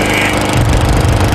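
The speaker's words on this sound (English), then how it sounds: "This guy's lawnmower did something, man." A lawn mower runs close and loud during morning lawn cutting, a dense, steady engine roar with a rough low rumble and no pauses.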